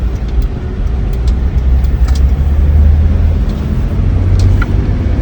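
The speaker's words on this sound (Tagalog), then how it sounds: "makapaikot pa tayo at marinig ng viewers natin yung tunog ng makina" Steady, loud interior drone of a 1969 Toyota Crown Deluxe with its overhead-cam straight-six engine while driving, a low continuous rumble with slight swells in pitch and no talk.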